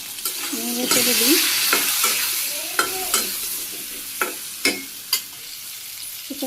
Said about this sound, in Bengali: কষিয়ে নিই সবজিটা